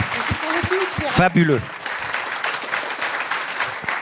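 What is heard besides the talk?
audience applause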